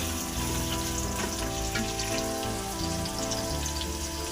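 Onions sauté in a pan for a chicken biryani made with coconut milk, a dense, close crackling sizzle that runs steadily like patter on a surface, with no one speaking.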